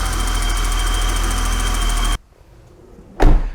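A BMW E32 735iL engine runs at a steady, close idle for about two seconds, then cuts off abruptly into near silence before a short, loud burst of noise.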